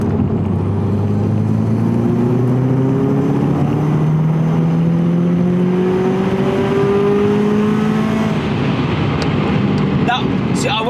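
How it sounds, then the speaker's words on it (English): Subaru Impreza STI S203 turbocharged car accelerating through the gears, its engine note sweeping upward in pitch again and again as each gear pulls, loud and close, with a voice speaking over it. "I went for a higher gear there just to see how it went from, you know, NA to turbo"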